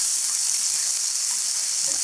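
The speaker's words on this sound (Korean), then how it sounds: "양파 넣고 중불에서 골고루 뒤집어주며 다시 1분 볶아주세요" Onion and cabbage stir-fry in a pan over medium heat with oyster sauce, giving a steady, close sizzle and hiss that continues evenly without talk.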